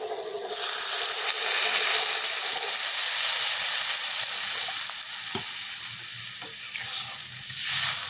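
Soybean curry sizzles loudly as it is sautéed and stirred in a pan, a broad steady hiss with faint scraping, easing slightly partway through before swelling again. No voices.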